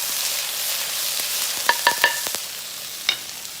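Ginger browning in a little hot oil off the heat, with a steady high sizzle and a few sharp clicks and scrapes of a utensil stirring it, no voices.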